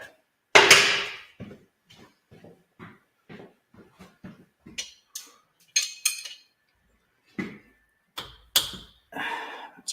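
Metal wrenches clinking and clattering as they are picked up and set down during a motor teardown, a close series of sharp, uneven knocks and rattles with brief pauses between them.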